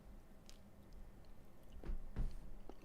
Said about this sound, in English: I'm going to eat this banana